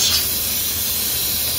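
A home pressure cooker releases steam as it is opened, a loud, steady broadband hiss heard up close for the whole stretch without any speech.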